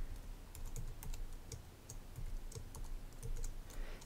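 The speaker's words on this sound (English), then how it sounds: "So you just type in your password." Keystrokes on a keyboard as a password is entered during iPad Home Sharing setup, a steady run of quiet, close clicks spread across the clip with no talking.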